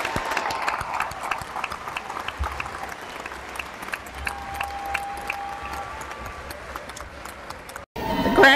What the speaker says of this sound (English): Please join me in applauding the graduates from the College of Applied Science and Technology.